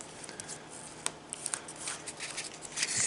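Origami paper folded and creased by hand, soft crisp rustles and sharp little creasing snaps, quiet and close, no talk.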